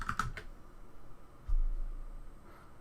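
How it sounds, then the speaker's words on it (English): A few quick keystrokes on a computer keyboard as a password is typed, close and clear at the start, then quiet with a faint tick later. "type your password"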